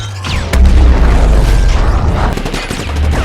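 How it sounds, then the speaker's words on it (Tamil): A movie explosion as a Transformer robot is blown apart: a loud, close boom with crackling debris and bursts of popping that trail off over a few seconds. "டிராப் கிக் டிரான்ஸ்ஃபார்ம் ஆகும்போது பம்பிள் பீ குறுக்குல ஒரு செயினை போட்டு வேகமா இழுக்க டிராப் கிக் மொத்தமா வெடிச்சு பீஸ் ஆயிடுறான்."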